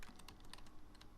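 Rapid, faint keyboard clicking from pressing the sprint button while playing Legacy Minecraft 1.5.2, a quick irregular run of close keypresses with no talking.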